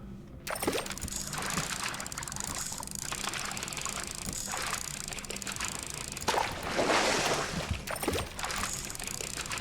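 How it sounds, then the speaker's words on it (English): A fishing line cast into water in Albion Online near the base of a waterfall, a soft splash and whoosh around the seventh second over a steady rushing water bed, with game ambience throughout. "Do a short cast down here."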